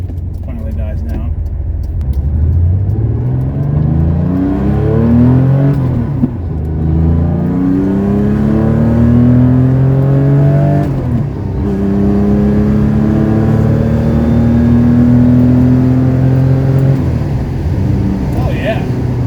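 A 1970 Porsche 911T pulls onto a main road, its air-cooled engine revving hard through several rising gear pulls, loud and close from inside the car.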